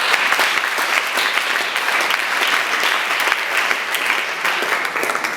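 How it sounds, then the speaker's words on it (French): Sustained applause from a seated audience at a French-language training session, honoring talented members; many hands clap in a thick, unbroken roar that holds steady for several seconds. "est-ce qu'on peut applaudir pour ces talents?"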